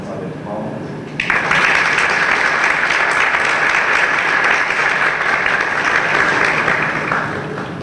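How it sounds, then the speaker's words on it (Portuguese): An evening lecture audience bursts into warm applause welcoming a priest as speaker, a dense, loud clapping that starts abruptly after a moment of murmur and holds steady for several seconds before thinning. "saudando uma salva de palmas"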